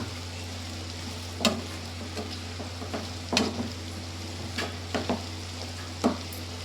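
Chicken fry being mixed in a pan gives a low steady hum of cooking with a few separate scraping stir strokes spread across the stretch, and no one speaks.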